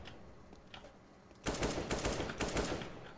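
Automatic rifle fire in CS:GO on the Dust 2 map rattles out in several rapid bursts after a quiet opening, loud and close, with a short pause between volleys.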